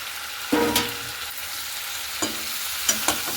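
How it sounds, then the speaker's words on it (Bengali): Fried fish heads are tipped into a pan of potatoes and spices for a Bengali fish-head curry and stirred, giving a steady sizzle broken by a few sharp scraping and clattering spoon strokes, close by with no talking. "এরপরে সে ভেজে রাখা মাছের মাথাগুলো দিয়ে দিচ্ছি।"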